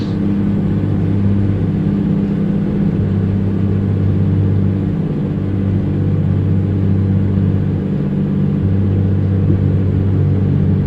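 A steady, loud engine drone with low rumbling hum runs continuously, slight shifts in pitch, from an old-school Peterbilt truck hauling 57,000 lbs in the video game American Truck Simulator.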